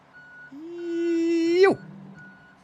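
A single sustained electronic reversing tone from a truck in a trucking video game, rising steadily for about a second before cutting off sharply, with a faint repeating beep underneath, fairly close and unaccompanied by talk.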